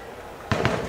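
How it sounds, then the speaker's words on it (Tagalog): Firecrackers exploding at a Philippine celebration, two sharp loud bangs in quick succession after a quiet lead-in. "Talagang ang lalakas ng mga paputok."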